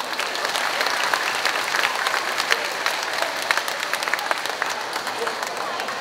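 Enthusiastic applause from the audience at a kindergarten graduation ceremony, dense clapping that stays loud and steady for the whole stretch.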